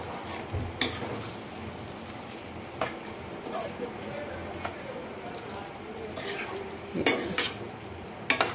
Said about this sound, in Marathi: 1 चमचा मीठ घातले आणि जरासं आणि मस्त असं ढवळून घ्यायचं